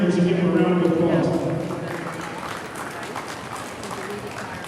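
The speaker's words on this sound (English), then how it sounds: "please congratulate these exhibitors and give them a round of applause" Ringside spectators applaud exhibitors at a junior livestock show, steady clapping that starts strong and gradually fades, with voices talking underneath.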